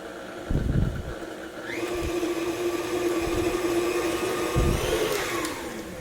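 An electric mixer creams butter, sugar, vanilla extract and eggs for oatmeal raisin walnut cookie dough, giving a steady loud whirring drone that rises in pitch as it speeds up, with a few thumps and knocks mixed in.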